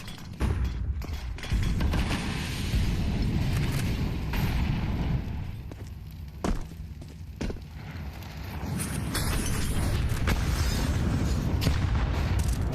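Grenades bursting during a professional Counter-Strike match at PGL Bucharest, heavy low booms and rumbling blasts in dense succession over about thirteen seconds, loud and continuous with brief gaps.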